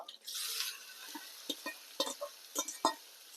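Boiled Chinese potatoes go into a pan of fried onion tempering and are stirred, starting with a brief sizzle and followed by scattered close scrapes and clinks of a spoon against the pan.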